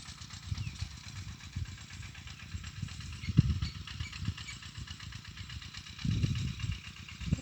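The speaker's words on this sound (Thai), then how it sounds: "มีรถใหญ่มีรถไถเดินตามก็เฮ็ดได้พุ่นเห็นบ่" A walk-behind tractor engine works in a rice field. It gives a steady, rough, mid-pitched chugging with uneven bursts, close by and alone, with no voices.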